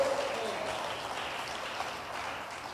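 Church congregation clapping during a Pentecostal sermon, a soft, distant wash of applause from many hands, fairly faint and even throughout.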